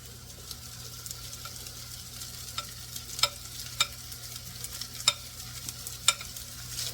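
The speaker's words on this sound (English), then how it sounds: "next we want to stir in our shrimp" Shrimp stirred into a sautéing pan for a shrimp dip, giving a steady low sizzle with a few sharp utensil clicks and scrapes spaced through the stir, close and fairly quiet.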